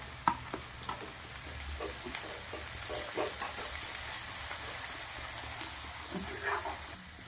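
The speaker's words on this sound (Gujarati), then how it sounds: "ડુંગળીને મસ્ત લાલ થવા દેવાની છે ડુંગળી લાલ થઈ ગઈ છે" Onions fry in hot oil with asafoetida, ginger and garlic, giving a steady soft sizzle with occasional stirring scrapes and ticks, quiet and close, with no talking.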